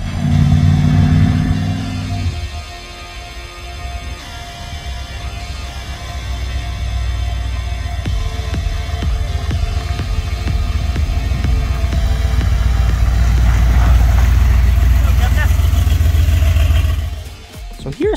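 The Gambler 500 car build Dreadnought drives under its own power for the first time, a steady low engine throb and rumble holding loud and continuous throughout, with a brief drop near the end.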